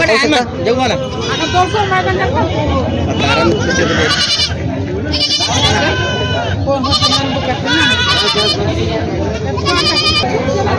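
Goats bleat repeatedly, near and far, at a busy goat market in Vasmat, Hingoli district, over constant crowd babble and someone talking close by.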